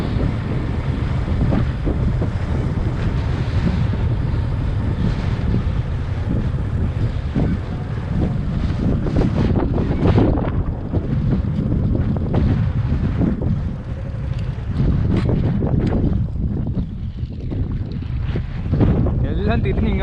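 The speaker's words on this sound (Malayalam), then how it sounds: "ഭയങ്കര കാറ്റാ. അവിടെ ഇങ്ങോട്ട് ഭയങ്കര കാറ്റടിക്കുക." Strong wind blows hard into the microphone, a continuous loud buffeting roar with gusty surges that barely lets up throughout.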